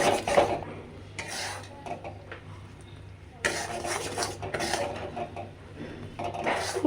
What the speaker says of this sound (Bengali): ভালো করে নাড়িয়ে নাড়িয়ে ওটা পাক করে নিতে